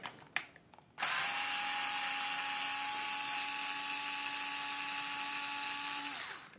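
A cordless power drill whines steadily for about five seconds as it backs screws out of a cheap Chinese copy of a chainsaw, loud and close after a few brief knocks and clatters.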